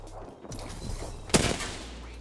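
Rapid gunfire bursts in the video game Apex Legends, a loud sharp crack standing out midway over steady game noise, with no talking.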